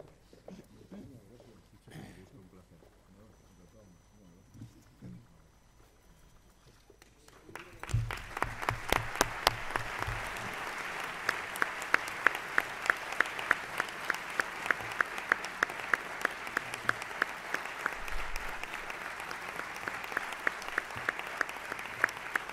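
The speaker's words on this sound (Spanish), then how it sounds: "Muchísimas gracias a todos por su aplauso" Audience at the 2018 road Medals of Honor ceremony breaking into sustained clapping after a quieter stretch with a voice, the applause dense and steady for the remaining fifteen seconds.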